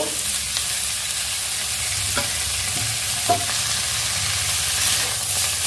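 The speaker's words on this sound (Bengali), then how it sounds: "আলুটা একটু নেড়ে চেড়ে নিয়ে সবজিগুলো দেবো এই যে দেখো আলুগুলো হয়ে গেছে এর মধ্যে বাকি সমস্ত এই সবজিগুলো আগে দিয়ে নেব গাজর বাঁধাকপি ক্যাপসাইয়াম কোয়াশ দিয়ে নেব" Potatoes stir-fry together with carrot, cabbage, capsicum and squash under a steady sizzle. A spatula scrapes and clinks against the pan now and then, with no talking.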